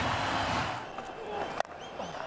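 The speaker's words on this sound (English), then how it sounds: "The crowd are on their feet." A cricket crowd at a 2015 Cricket World Cup match between Australia and Sri Lanka cheers and applauds on its feet, a broad roar that fades slightly, with a commentator talking over it.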